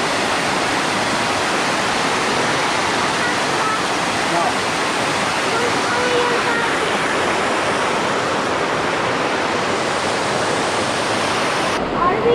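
Stinging Fork Falls waterfall roars steadily and loudly up close, a dense unbroken wash of falling water that fills the whole stretch without pause.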